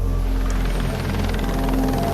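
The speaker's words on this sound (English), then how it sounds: "Lifeguards call in the police chopper." Police helicopter over Bondi Beach, its rotor thudding steadily with a droning engine tone, loud and close, continuous with no talk.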